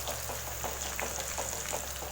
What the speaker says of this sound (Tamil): பச்சை மிளகாவை இது கூட சேர்த்து வதக்கி விட்டுக்கலாம்.